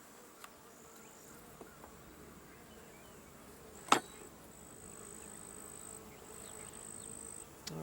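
A quiet, steady insect hum of honey bees around an open hive, with a sharp click partway through and faint scattered knocks.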